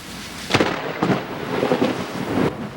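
Bad weather with heavy rain and wind, steady rainfall hiss broken by several loud crackling thunder-like bursts in quick succession, close and intense, with no voices.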